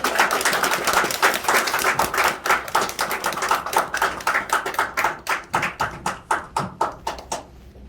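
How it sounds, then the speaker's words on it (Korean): A church congregation at a Sunday service welcomes a pastor with applause that begins dense and loud, then thins into separate, slowing claps that fade out. "큰 박수로 한번 맞이해 주시기 바랍니다"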